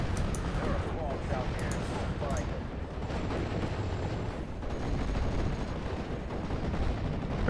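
Mortar and gunfire from the Steel Division World War II game land as scattered distant thuds and crackles under a dense wash of battle noise.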